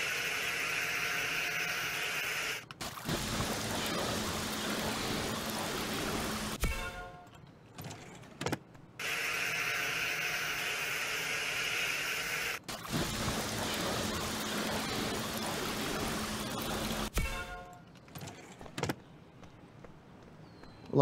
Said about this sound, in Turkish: Ne var araba yıkamak? Burası çalışıyor.